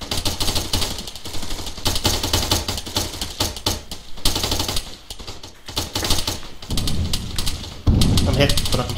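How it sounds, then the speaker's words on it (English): Automatic weapons fire during an Arma military mission, dense rattling bursts running almost throughout, with voices talking over the shooting and a heavier thump near the end. "Are we taking fire from our northwest?"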